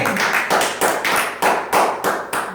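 A church congregation claps together in a strong, even rhythm, loud and close, with roughly two beats per second across the whole stretch.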